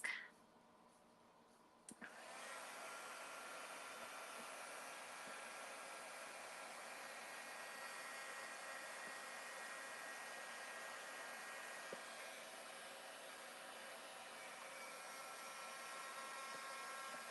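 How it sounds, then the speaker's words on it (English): A heat gun blows hot air across a crafting desk with chipboard, switching on after a short quiet moment into a steady, hissing, even whoosh that runs unbroken to the end, with no talking. "that way my heat gun doesn't shoot my chipboard all over my desk"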